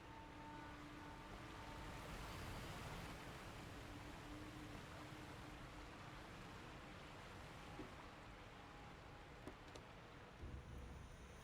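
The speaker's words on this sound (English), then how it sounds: "The noise of the roaring waterfall is deafening." Steady, roaring rush of falling water at a waterfall in the video game Sekiro, a dense continuous wash of noise that holds evenly throughout with a few faint clicks near the end.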